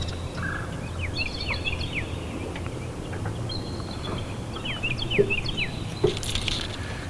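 Eagles call behind Eagle Island, giving bursts of high chittering cries at a moderate distance over a low outdoor rumble, with a couple of sharper knocks near the end.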